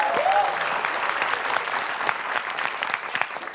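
A studio audience at a comedy quiz show applauds, loud and close, with a dense patter of clapping that gradually thins and fades.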